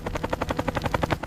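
Helicopter rotor chopping in a steady, rapid rhythm, loud and close, with evenly spaced blade thumps and a dense engine roar throughout, in a 1968 combat setting amid smoke and fire; no voices.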